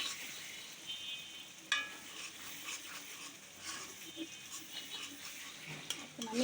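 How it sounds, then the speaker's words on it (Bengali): Masala spice paste sautés in a pan while a spoon stirs and scrapes through it, giving a soft, steady sizzle broken by intermittent utensil knocks and clinks. "মশলাটা কষিয়ে নেই"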